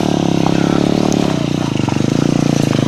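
A 2017 DXR trail motorcycle engine runs steadily and loud nearby, a low throbbing idle with a slight rise in revs partway through, with no voices over it.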